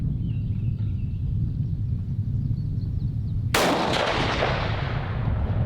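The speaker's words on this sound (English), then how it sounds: "Shooting again." A rifle shot rings out at a long-range target set at 900 yards, a single sharp, loud report that cracks suddenly out of steady outdoor background noise and then rolls away in a long fading echo.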